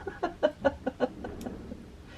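A chicken clucks in a quick series of about eight soft, rhythmic calls that trail off, heard faintly and somewhat distant in an otherwise quiet room of a working studio.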